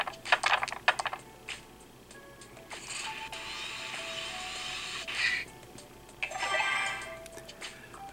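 Dice clatter in the Monopoly Millionaire mobile game on Windows Phone 8, a few quick bright rattling bursts alone at moderate level, with a longer rolling shimmer in the middle and another near the end.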